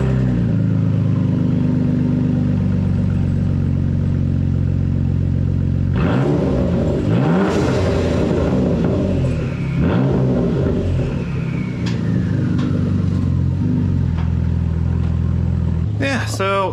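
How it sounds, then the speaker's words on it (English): A 2014 Ford Taurus SHO runs with its rear pipe piece removed: a loud, steady engine drone that cranks up into rough, sharp revving bursts midway, then settles back to a raw idle. There is no talking. "I'm just gonna start the car."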